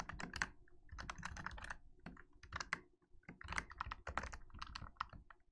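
Rapid typing on a computer keyboard, dense bursts of sharp key clicks with brief pauses between, close and fairly quiet.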